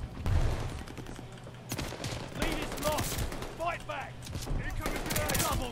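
Bursts of automatic gunfire in Call of Duty: Vanguard rattle in rapid clusters under a player talking, with sharp shots scattered across the moment at moderate level.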